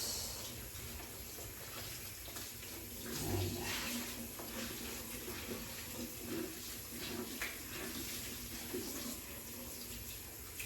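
Ordinary tap water runs steadily during housekeeping cleaning, a continuous splashing hiss at moderate level with a slightly louder surge partway through.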